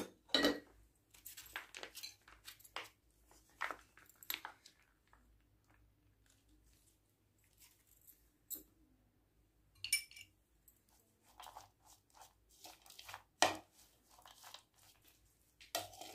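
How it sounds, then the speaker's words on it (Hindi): Sandwich filling of chicken and cheese being mixed with mayonnaise in a bowl, soft intermittent spoon scrapes, clinks and squelchy stirring sounds separated by quiet pauses. "इसके अंदर हम थोड़ी सी मायनीज शामिल करके इनको मिक्स करेंगे।"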